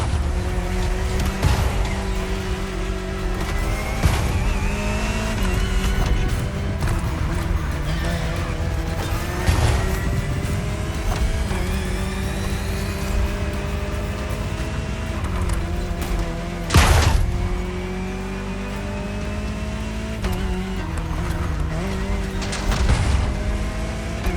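Jaguar CX-75 concept car in The Crew Motorfest, a sustained engine drone with rising and falling pitch as it accelerates and shifts, punctuated by a few sharp impacts, steady and close throughout.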